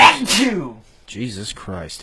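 A sharp, close sneeze bursts out at the start and fades quickly, followed by someone talking.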